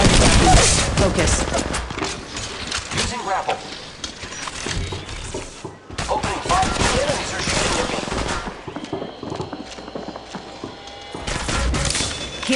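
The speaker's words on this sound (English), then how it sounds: "I am taking fire." Gunfire in the mobile battle royale Apex Legends Mobile, dense bursts of rapid automatic shots and impacts filling most of the stretch, with brief lulls and game sounds between volleys.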